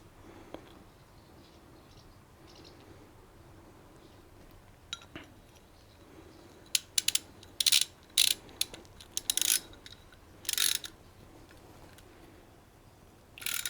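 A stiff, tight bolt is screwed in for the foot pegs of a 2025 Honda X-ADV 750, heard as several short, close bursts of metallic ratcheting clicks over a quiet background.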